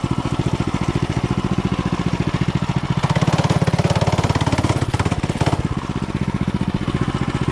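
A newly built mini bike's engine runs loud and close with a steady rapid pulsing beat while rolling downhill, swelling briefly louder mid-way before settling back to the same rhythmic drone.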